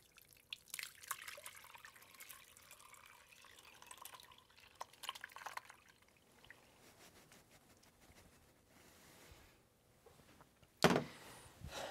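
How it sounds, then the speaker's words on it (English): Curds and whey poured into cheesecloth to make cottage cheese, then a quiet, scattered dripping and trickle of whey draining, with one brief louder clatter near the end. "So take this and you just pour it into your cheesecloth."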